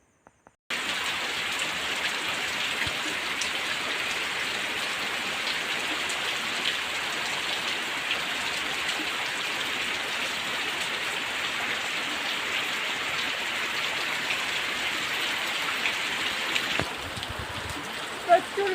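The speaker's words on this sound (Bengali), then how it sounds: "প্রচুর বৃষ্টি হচ্ছে" Heavy monsoon rain pours down for a long stretch, a dense, loud, even hiss of drops on surfaces that starts abruptly and barely changes, with a few small knocks near the end.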